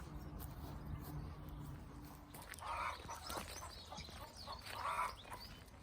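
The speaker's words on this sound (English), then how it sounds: "Ah, chickens! Oh, noisy, aren't they? I found chickens." Chickens clucking in a couple of louder bursts over a steady outdoor background hum, moderately close.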